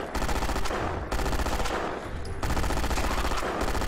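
Gunfire from a weapon in Fallout 4 plays as a dense, continuous rapid-fire rattle over game sound, with loud bursts that barely break across four seconds.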